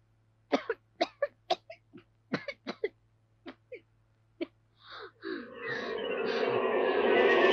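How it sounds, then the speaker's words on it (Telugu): A person coughs in a series of sharp, separate bursts, about a dozen spaced at irregular intervals, nearby and fairly loud, before a rising steady rumble of engine or road noise takes over. "ఈ మధ్య తరచూ దగ్గు వస్తుంది"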